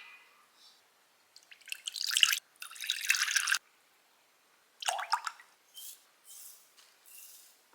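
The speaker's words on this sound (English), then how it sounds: "I lay it down vertically so that the water can drip." Water drips and trickles off freshly washed vegetables standing upright, several short bursts of patter and drops separated by quiet pauses, close and fairly soft.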